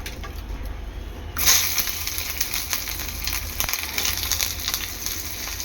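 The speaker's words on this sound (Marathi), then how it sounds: "वाटणासाठी आपल्याला कांदा, खोबरं, तीळ हे थोडेसे भाजून घ्यायचे आहेत तेलावर" Onion, grated coconut and sesame seeds roast in hot oil, a soft steady sizzle and crackle that swells suddenly as ingredients hit the pan, then settles into a low fry.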